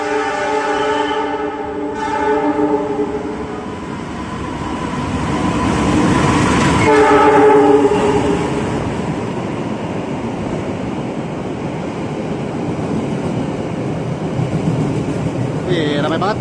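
Argo Parahyangan long-distance passenger train from Bandung to Gambir passing through Manggarai station in Jakarta on a busy holiday, loud continuous rumble and rail noise for the whole stretch with harmonic brake or horn tones early on, swelling mid-way.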